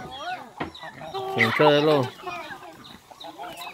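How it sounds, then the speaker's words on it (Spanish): Hens and chicks near a pig being fed maize, clucking and calling in short bursts close by while someone talks over them. "aquí las chapincitas le dieron un poco de comer a los pollitos"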